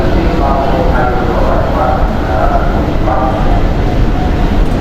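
Loud, constant rumble of a metro train in a busy MRT station at rush hour, a dense low roar with voices talking underneath.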